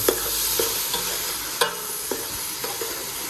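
Turmeric, garam masala, chilli and salt crackling in hot oil as a tempering for a potato, carrot and pea dish, a steady loud sizzle with sharp spoon clicks against the pan at irregular intervals.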